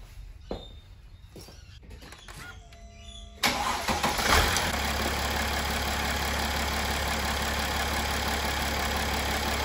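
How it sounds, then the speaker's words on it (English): A Mercedes ML350 W164 engine cranks briefly and catches, then settles into a steady, loud idle that runs close by, following some quieter handling noises. "it's now time to start the engine."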